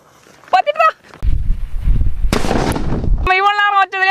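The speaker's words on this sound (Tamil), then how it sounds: "அந்த சின்ன சைஸ் ஆட்டம் பாம்பு தாங்க வெறித்தனமான சவுண்டு" A small "atom bomb" firecracker goes off outdoors with a sudden loud blast and a burst of rumbling, crackling noise lasting about a second, set between stretches of voices talking before and after.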